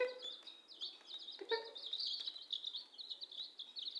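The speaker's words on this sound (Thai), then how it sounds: "เสียงไก่ก็ร้องเสียวๆ" Chickens at a rural Thai home, including a small flock of chicks, cluck and chirp in quick repeated high peeps over a quiet background.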